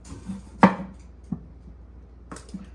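A knife cuts thin slices of potato on a board, with one sharp, close chop followed by two softer, lighter cuts spaced about a second apart in a quiet room.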